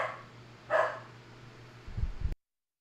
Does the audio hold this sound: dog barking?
yes